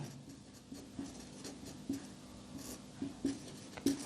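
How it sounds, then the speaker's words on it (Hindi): Writing on a board during a number-system maths lesson, a few faint, separate taps and scratches of the marker spaced through a quiet room. "तो n लिख देता हूं मैं"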